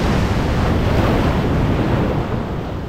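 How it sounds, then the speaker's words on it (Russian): Sea waves crash and roar continuously onshore at a beach in Turkey in December, loud and close, with wind buffeting the microphone throughout and no voices. "смотрите, какая волна."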